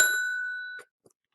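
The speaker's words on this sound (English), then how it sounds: "I ring a bell." A hand bell rung once in a classroom gives a clear, bright ding that rings on and slowly fades for under a second, followed by a faint small tap, with no voices.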